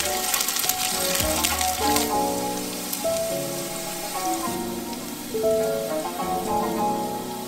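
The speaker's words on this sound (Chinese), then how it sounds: "把鱼丸炸至金黄，这样就可以了。" Yellow croaker fish balls deep-fry in oil with scallion and garlic, a dense, steady sizzle like light rain heard up close, with background music playing underneath.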